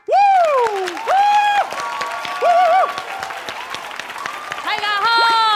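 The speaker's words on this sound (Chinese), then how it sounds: "我们掌声欢迎瑞恩" A studio audience on a Taiwanese comedy talk show claps for a stand-up comedian, with loud whooping cries rising and falling over the applause throughout.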